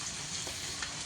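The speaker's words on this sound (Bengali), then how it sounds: "তারপর কেটে রাখা টমেটোগুলো দিয়ে দেবো, একটু ভাজা ভাজা করে নেব" Chopped tomatoes frying in a pan before spices go in, a soft steady sizzle with a couple of faint stirring scrapes, brief and close.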